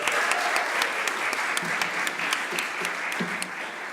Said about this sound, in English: An extra applause for Andreas Dahlbäck.